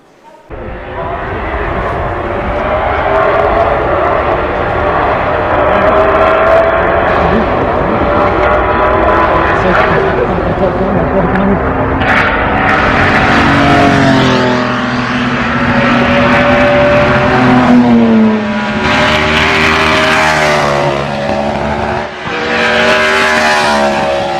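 A high-pitched V16 racing engine shrieks loudly and continuously, revving up and down as the car passes close by, with crowd noise underneath.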